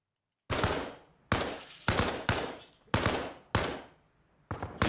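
Gunfire from the video game Arma Reforger: six sharp, loud bursts of shots, each decaying quickly before the next, irregularly spaced over a few seconds with no talking.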